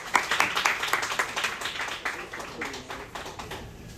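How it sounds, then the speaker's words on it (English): Warm audience applause welcoming a poet at a reading, a small crowd clapping in a quick, uneven patter that stays fairly close and gradually thins out. "let's give her a really warm round of applause"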